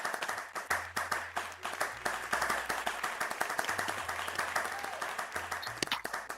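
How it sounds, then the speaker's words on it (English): Small audience clapping after a talk on 3D modeling, a run of distinct close claps from a modest group, fairly soft and steady, with faint voices underneath. "Round of applause"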